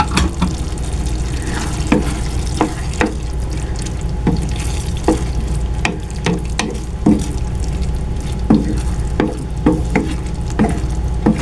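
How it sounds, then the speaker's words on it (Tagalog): Green peas tossed into a pan of ground pork menudo, a Filipino stew, set off a steady loud sizzle while a spoon scrapes and stirs with repeated clinks; no talking. "Lagay na po natin yung ating green peas."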